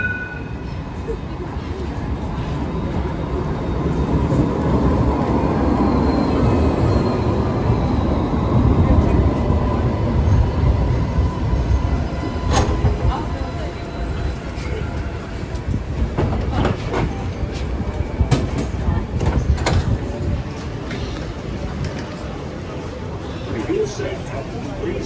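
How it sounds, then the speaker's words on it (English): A Sydney Light Rail tram rumbles along with a low, steady rolling drone that builds, holds and fades, while people talk over it. "we only had to wait a few minutes for the next tram"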